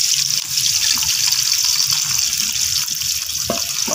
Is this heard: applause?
no